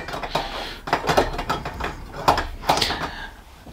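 Metal clinks and scraping clatters as a Stanley cook set pot is slotted onto a UK-made camping stove, several sharp irregular knocks close by, with no talk.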